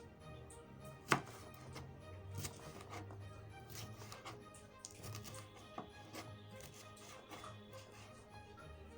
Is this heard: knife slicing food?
yes